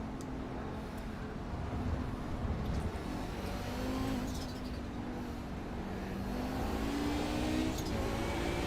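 Audi 90 GTO race cars lapping Lime Rock in a racing video game, engines droning steadily with rising revs and overlapping cars, a dense continuous roar with no talk.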